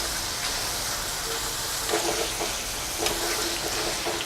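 Potato wafers bubble in hot oil while being turned, a continuous close hissing fry with a few brief scraping stirs and splashes breaking through, with no voices.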